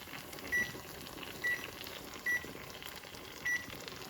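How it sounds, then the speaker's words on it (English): A kitchen timer being set for canning pint jars of okra gives four short high electronic beeps at uneven intervals over a soft steady background hiss. "So I'm gonna set the timer for 25 minutes."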